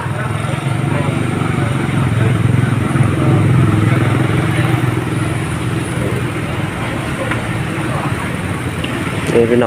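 Various vehicles pass along a road, a continuous loud rumble of engines with a motorcycle-like drone dominating, steady throughout at close range with a voice talking over it.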